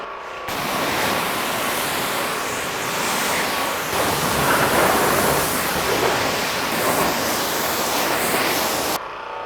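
Running water pours in a loud, steady rush that starts abruptly, continues unbroken for several seconds, and stops just as suddenly.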